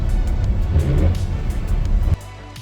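A van rolls along a back road at sunset with a steady close engine rumble from inside the cabin, which drops abruptly to a quieter idle near the end.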